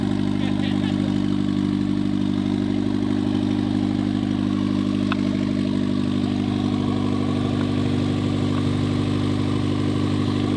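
A car engine fitted with a budget turbo idles just after its first start, a loud, steady, rumbling drone that holds constant and close for the whole stretch.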